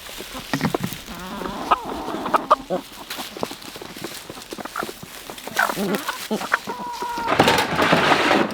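Several farm chickens cluck and squawk close by in irregular bursts, with outdoor ambience and no talking.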